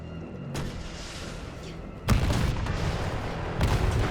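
Rocket launcher blasts from Resident Evil 3 Remake come as three sharp, heavy booms, each followed by a rumbling tail. The second blast is the loudest.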